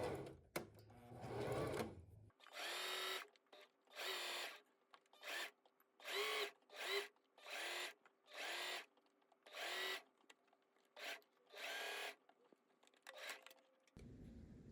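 A sewing machine stitches a 1/4 inch seam on a fabric tabi slipper in about a dozen short, loud, close bursts, each separated by a brief pause.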